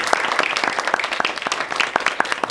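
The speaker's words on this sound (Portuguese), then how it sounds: "vamos dar um forte aplauso para ela" Seminar audience at an event on Mebêngôkre-Kayapó cinema gives brief applause: a short burst of fairly close, distinct claps from a modest crowd, with individual hand strikes standing out in an uneven rhythm.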